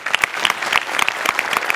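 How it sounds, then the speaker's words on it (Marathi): A studio audience at a Marathi comedy show gives a performer a short burst of brisk applause, with dense clapping throughout. "सो तुझ्याकरता एकदा स्पेशल टाळी"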